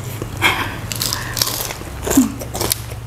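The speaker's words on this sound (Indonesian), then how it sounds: "Kulitnya renyah banget." Bites into crunchy, crispy fried chicken skin, spicy-coated, give a few sharp crunches close to the mic, with a steady low hum underneath and no talking.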